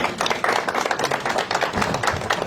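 Short burst of clapping at a press conference, a scattered group applauding close by for a few seconds with no talk.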